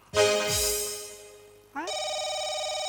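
During a live stage comedy show, an electronic phone ringtone trills loudly close by, briefly pausing and then resuming as a steady bright tone.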